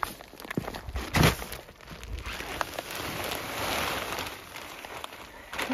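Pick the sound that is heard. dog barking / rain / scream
rain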